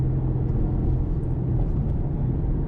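A neighbor's Ford Mustang EcoBoost accelerating hard, heard as a steady, loud low rumble of engine and road noise, close by, with no talking.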